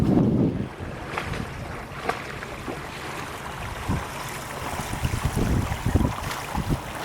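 A sailboat under way in light wind among the San Juan Islands, making about 4 knots. A steady wash of water and wind rushes past the microphone, with occasional soft knocks and splashes.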